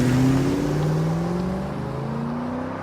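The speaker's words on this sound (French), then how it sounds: "Rachel appuyait à fond sur le champignon et la voiture fonçait au milieu des petites ruelles de Marseille" A car's engine roars under hard acceleration through narrow Marseille back streets, a steady rising whine holding loud and close for a few seconds with no voices.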